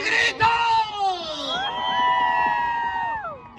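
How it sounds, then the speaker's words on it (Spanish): A crowd at a Mexican jaripeo shouting and cheering, loud whoops and yells rising together over music and an amplified voice. "¡Échese un pinche grito!"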